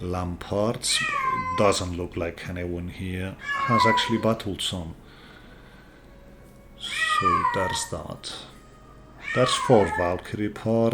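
A pet cat meows repeatedly under a person talking continuously, its drawn-out cries rising and falling between the spoken phrases.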